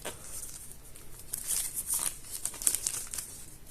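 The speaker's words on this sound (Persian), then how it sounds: "این صدای نایلونشو خودم دوست دارم" Plastic wrap crinkles and rustles steadily as a blue Poco C3 phone is unboxed, close and continuous, with a few sharper crackles and no talking.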